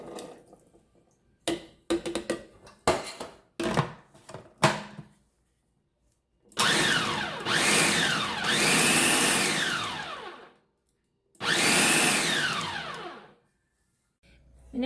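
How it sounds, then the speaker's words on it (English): Food processor grinding tamale ingredients: a few short clatters and pulses, then two long loud whirring grinding runs with a brief pause between, close and without talking. "So I'm gonna put this in a food processor and grind"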